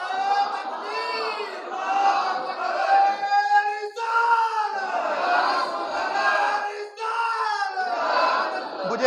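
A large crowd at a religious gathering chants a slogan in unison, loud and rhythmic, with long sustained shouts rising and falling in repeated waves.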